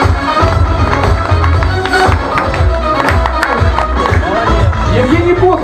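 Audience applause and cheering at a stand-up comedy open mic night, a dense steady clatter of many clapping hands filling the room, with voices mixed in.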